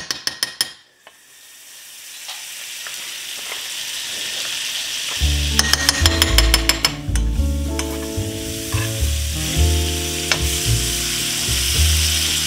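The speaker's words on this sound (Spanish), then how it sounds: "la vamos a empezar a dorar aquí en la cazuela" Chicken pieces browning in melted butter and a little oil in a cooking pot, a loud steady sizzle with repeated stirring and scraping clicks, no talking.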